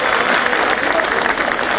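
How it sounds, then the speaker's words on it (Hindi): Loud, dense applause from an audience of lawyers at a Bar Council of Delhi welfare symposium, steady and sustained throughout without a break. "जोरदार ताली एक बार, 100 करोड़।"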